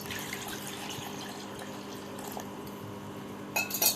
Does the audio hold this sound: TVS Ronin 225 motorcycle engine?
no